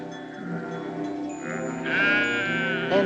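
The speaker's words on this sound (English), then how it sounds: "and the sheep cried again" Sheep bleating in a harsh, wavering cry on a Navajo range, a long rising bleat swelling in the second half with another short call at the end, fairly close and alone with no talk.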